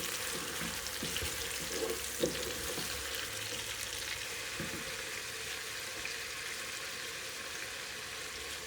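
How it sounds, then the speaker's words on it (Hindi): Tomatoes fry in a pan for village-style moong dal, giving a steady, dense sizzle with a few soft stirring scrapes near the start and no talking. "टमाटर को अब भूनेंगे हम"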